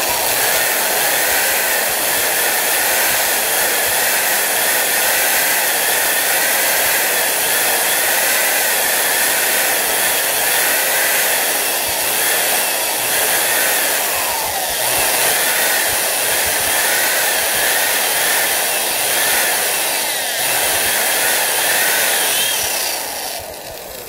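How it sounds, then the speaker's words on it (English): A power drill bores holes during an amplifier build, a loud continuous whining drone with a gritty cutting texture that holds steady for over twenty seconds, close and alone. "getting these holes drilled for the four peels."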